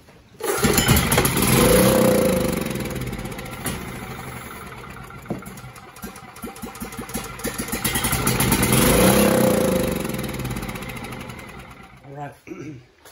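A refurbished Coleman Powermate PRO GEN 5000 portable generator engine cranking and starting, running loud and close with rising and falling revs, then stopping near the end.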